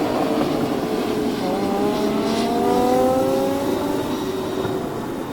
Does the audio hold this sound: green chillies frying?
no